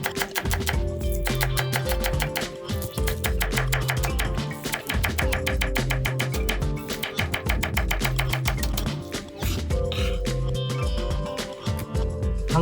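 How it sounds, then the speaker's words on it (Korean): A knife finely slices green onions on a cutting board, fast even rhythmic taps repeating in long runs with brief pauses, close and crisp, over a quiet musical background. "굳이 필요는 없지만 장식을 위해 쪽파를 잘게 썰어주겠습니다"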